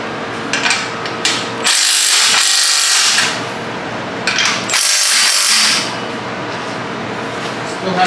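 Power tool tightening exhaust bolts on a Honda while fitting a new Takeda exhaust: two loud bursts of whirring, ratcheting drive, each about a second long, with workshop noise between them.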